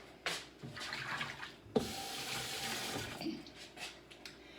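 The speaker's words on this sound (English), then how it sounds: "Wash my hands." Tap water runs into a kitchen sink during handwashing, a steady close splashing and rushing with bumps and clatters as hands move under the stream, alone without talk.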